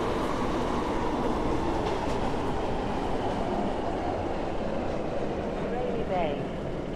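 A passenger train in the SCR railway game runs steadily with a continuous loud rumble and rolling wheel noise, while an automated announcement voice speaks over it.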